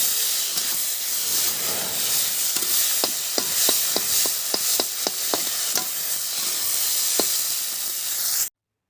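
Tomatoes, onion and green and red chillies fry in an Indian kadhai, a loud steady sizzling hiss punctuated by a quick run of sharp metallic scrapes as the spoon stirs, close up.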